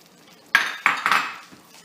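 A utensil scrapes and clinks against a metal pot while provolone cheese is stirred into seafood mac and cheese, a few sharp metallic knocks followed by softer scraping, close and clear with no talking.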